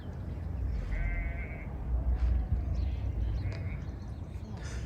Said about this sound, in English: There's sheep in the background.